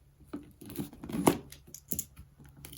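Scissors snip and slice through the plastic packaging of a Manscaped Performance Package 4.0 up close, several irregular cuts mixed with crinkling and tearing, quiet and without talk.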